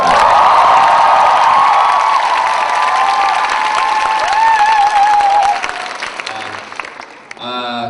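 A large audience at a comedian's talk concert claps loudly and continuously, with some cheering mixed in, then the applause tapers off near the end.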